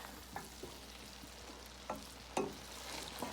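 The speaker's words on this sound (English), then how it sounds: "So now we're gonna mix everything into the pot." Chowmein noodles are being mixed in a pot on low heat for a Guyanese recipe, with soft scraping and stirring knocks over a faint sizzle, a few sharper clanks standing out.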